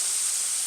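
Garlic cloves hit a hot pan and give a brief, even, close sizzling hiss with no talk.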